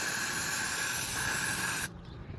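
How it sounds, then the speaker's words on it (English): Brake cleaner sprayed onto a used motorcycle brake caliper during an R6 caliper swap, a loud, close, continuous aerosol hiss lasting about two seconds before cutting off abruptly. "Brake cleaner."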